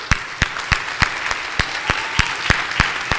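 Steady audience applause at a religious gathering, with sharp, regular broadband bursts of clapping repeating roughly every third of a second over a continuous bed of hands, moderately loud and with no talking.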